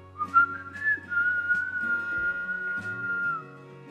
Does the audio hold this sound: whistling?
yes